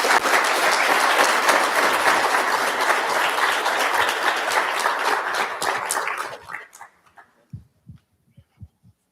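A TEDx audience at Central Michigan University applauds a speaker with sustained, full-room clapping for about six seconds, then it thins out quickly into a few scattered, isolated claps.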